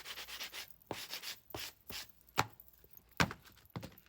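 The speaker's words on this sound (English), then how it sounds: "then I'm gonna use a sanding block" A sanding block rubs along the edges of a book's text block pages during a rebinding repair, in repeated close scraping strokes of uneven rhythm with short pauses between them.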